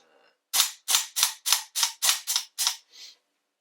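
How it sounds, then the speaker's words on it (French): Dry-fire trigger work on a CZ Shadow 2 pistol: nine sharp, close snapping clicks in a steady rhythm about a third of a second apart, with a softer final click and no talking. "Et avec ça, on peut faire du dry fire."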